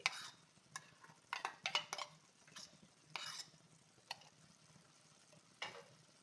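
Masala-mixed yogurt goes into frying spices in a pan for Hyderabadi paneer masala: quiet, scattered scraping and stirring clinks with a faint sizzle underneath, coming in short irregular strokes close by.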